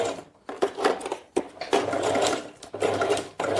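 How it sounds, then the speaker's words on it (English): Close-up sewing machine stitching the quilted lining of a makeup bag, running in short bursts of fast rhythmic whirring with brief stops between. "I'm going to gently come back right here and continue my stitching."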